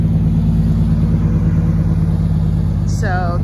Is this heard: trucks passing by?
yes